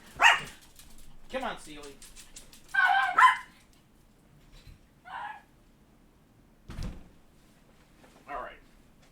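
A pet dog inside a home barks in several short, sharp bursts spread over a few seconds, close and fairly loud, while a person speaks to it between barks.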